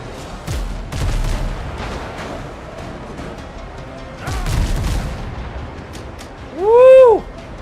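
A video game pirate ship fires all six of its cannons, heavy booms that land in separate bursts with rumbling between them, followed by a rising, falling whistle near the end.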